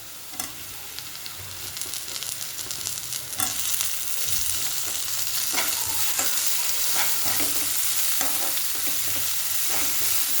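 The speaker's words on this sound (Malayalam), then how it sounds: "നമുക്ക് തക്കാളി ചേർത്ത് കൊടുക്കാം." Tomatoes go into hot oil with onions, chillies and curry leaves for an egg curry, giving a loud steady sizzle with repeated stirring scrapes, close and continuous with no talk.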